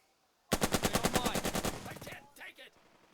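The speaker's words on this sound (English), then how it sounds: "I'm going to shoot at this squad." A fast burst of automatic gunfire at an enemy squad in the video game Burden of Command: a loud, rapid string of about a dozen evenly spaced shots that tails off, followed by a couple of fainter trailing sounds.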